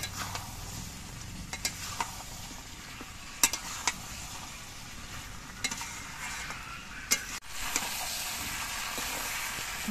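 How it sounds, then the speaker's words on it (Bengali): Meat pieces stir-fried in a pan, a soft steady sizzle broken by sharp clinks and scrapes of a spatula at irregular intervals, close but fairly quiet. "এবার মাংসর পিস দিয়ে আরো কিছুক্ষণ কষিয়ে নেব।"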